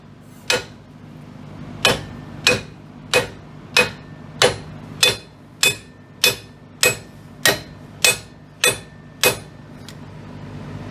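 Heavy hammer blows knocking out a worn ball joint on a 2nd-generation Dodge Ram 4x4 front end, about fourteen sharp metallic strikes in a steady rhythm, loud and close, with no talk.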